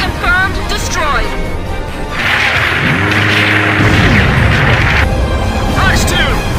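A destroyed tank explodes in the Ace Combat 5 combat-flight game, a sustained rumbling burst of several seconds amid constant radio chatter and voices.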